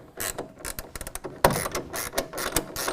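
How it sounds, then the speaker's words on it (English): Half-inch ratcheting wrench tightening a clamp on a TonnoSport tonneau cover fitted to a 2017 Nissan Titan, with a series of quick close clicks in uneven bursts and one sharper knock midway. "I'll go ahead and tighten that down again with our 1/2 inch ratcheting wrench"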